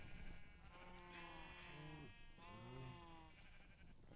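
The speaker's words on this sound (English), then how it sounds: "we have a lot of sheep" Minecraft sheep bleating, two or three wavering baas one after another, faint and close, with no talk.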